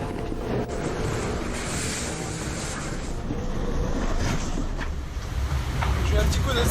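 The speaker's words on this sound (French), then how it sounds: "Il y a 35 de vent." Strong 35-knot wind over the Indian Ocean aboard a sailboat, a loud continuous roar of wind and sea with constant buffeting on the microphone.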